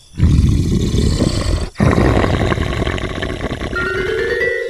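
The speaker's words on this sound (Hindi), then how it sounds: "तभी अचानक से किसी के गुर्राने की आवाज आती है।" A loud, deep, rumbling animal growl close by, cut by a brief pause and then resuming, rough and sustained.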